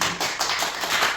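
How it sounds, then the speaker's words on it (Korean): Participants at a Bible memorization seminar clap briefly after reciting a verse, a short close burst of several hand claps with a tapping quality. "이럴 때는 박수를 칩니다."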